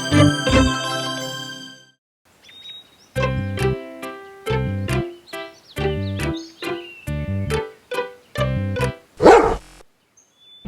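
An animated dog barks repeatedly in sharp, evenly spaced bursts, loud and close, after a brief tonal jingle at the start.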